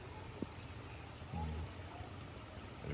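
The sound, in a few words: strong irrigation water flowing through rice paddies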